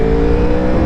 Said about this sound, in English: on the race mode without the baffle on that GPR exhaust, it absolutely howled